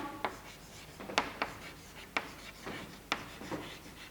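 Pen scratching on paper while writing out a chemistry element description, short irregular strokes and taps, quiet and close, with no talking.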